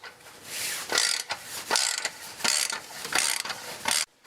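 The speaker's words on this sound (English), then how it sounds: "the first step is to loosen up these torque clamps. They're 9/16." A 9/16 wrench or ratchet works the muffler torque clamps on a 2008 Harley-Davidson Road Glide touring motorcycle, giving five close, loud bursts of ratcheting clicks with short pauses between them.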